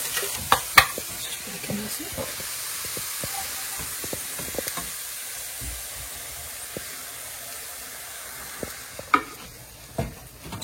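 Eggs added to potatoes frying in a pan for a Spanish tortilla, a steady sizzling hiss with scattered clinks and scraping stirs, louder knocks near the start and end.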